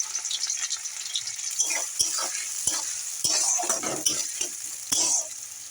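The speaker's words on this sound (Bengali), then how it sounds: "কড়াতে আমি তেল দিয়ে দিয়েছি" Onions fry in hot oil in a wok, with a steady sizzle broken by sharp clinks and scrapes of a spatula being stirred through them.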